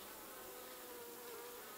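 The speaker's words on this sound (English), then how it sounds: "This hive still looks pretty good. Lots of bees in there." Honey bees buzz in a hive box in winter, a faint, steady, close swarm hum with no other sounds.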